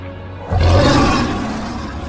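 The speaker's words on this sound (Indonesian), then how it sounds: "Hingga terdengar suara auman Aslan dari atas tebing." Aslan the lion roars from atop a cliff in a Chronicles of Narnia film, one loud, deep, sustained roar that swells suddenly and slowly fades over the remaining seconds.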